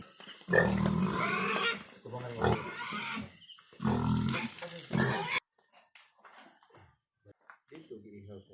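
A pig being slaughtered for lechon squeals and grunts loudly in bursts for about five seconds, then quieter scattered sounds follow.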